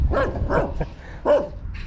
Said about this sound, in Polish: No co, szczekasz na mnie?